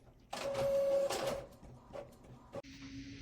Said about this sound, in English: let's go ahead and send this to our printer to print out